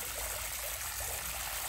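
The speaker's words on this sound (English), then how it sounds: "listening to the sounds of the waterfall from the pool" Water from a backyard pool waterfall splashes steadily beside a screened patio porch in the evening, a constant soft rushing trickle with no voices.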